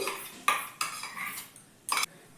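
Sour yogurt is spooned into flour in a bowl for naan dough, heard as a few close metal clinks and scrapes of a spoon against the bowl between quieter soft movements.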